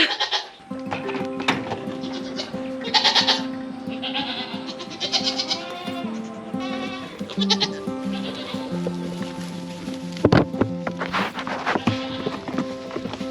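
Several dairy goats bleat repeatedly, some close and loud, others farther off, with occasional hoof clatter and a brief voice in the background.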